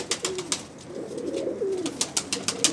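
Pigeons coo softly nearby in repeated low throaty phrases, with light rustling and clicks between the calls.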